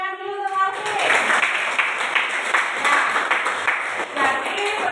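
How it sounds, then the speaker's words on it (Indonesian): Classroom of students applauding a classmate, a steady patter of many hands that starts after a brief spoken line and continues for several seconds before thinning. "tepuk tangan dulu untuk Marvin"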